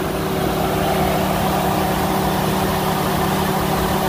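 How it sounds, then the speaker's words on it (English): A 2011 Chevy Tahoe police-package 5.3-liter engine with 105,000 miles idles steadily with a constant low rumble and hum, close and unchanging throughout. "Motor sounds great."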